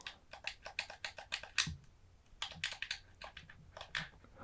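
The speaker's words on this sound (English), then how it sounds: "I do like button pressing." Buttons on an old PlayStation 2 controller are pressed in quick, close clicky bursts, a soft plastic tapping that pauses briefly midway before resuming.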